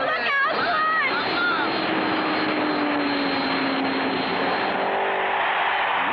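Cartoon race car engine roaring steadily during a race in the Clutch Cargo animated series, a loud continuous drone with a brief higher whine early on, alongside some voice.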